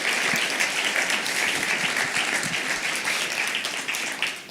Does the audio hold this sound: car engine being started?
no